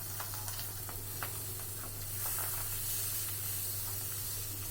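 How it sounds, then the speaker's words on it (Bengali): Pabda fish fry in hot oil with a steady loud sizzle, broken by crackling pops and splatters throughout. "আইস ছাড়া মাছগুলো প্রচণ্ড ফোটে, আমার তো খুব ভয় লাগে তেলটা ছিটে এসে পড়ছে গায়ে।"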